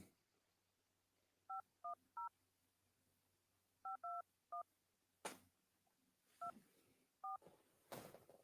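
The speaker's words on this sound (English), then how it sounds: "I heard the touch tones." A phone keypad sends touch tones during dialing: three quick beeps, a pause, three more, then two further spaced beeps, fairly clear against a quiet background with a few thumps.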